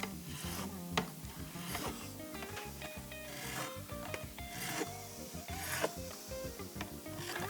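A file is drawn over guitar frets in rough passes to reshape them, a steady rasping scrape with repeated strokes, loud and close, with no talking.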